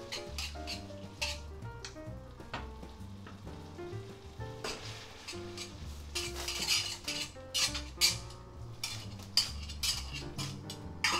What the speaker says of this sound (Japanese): フライパンの中でこうやって混ぜ合わせていきます。